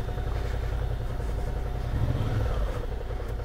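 A motorcycle engine idles nearby with a low, uneven rumble, swelling briefly as if revved before settling back.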